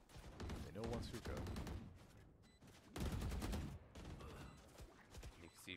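Rapid rifle spraying in Valorant comes in dense bursts, mixed under excited commentary.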